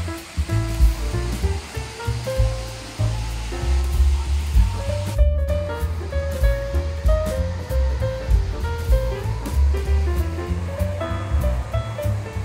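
Water of the Cheonggyecheon stream in central Seoul rushes in a dense, continuous wash, loud and near, with faint tonal sounds mixed underneath.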